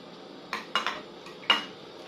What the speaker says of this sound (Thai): ตำหยาบๆสักหน่อยนึงนะคะ เพื่อรสชาติมันจะได้จิ๊ดจัด